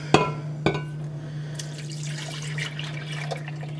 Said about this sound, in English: I'm going to take what's left in the pan and I'm going to put it in a measuring cup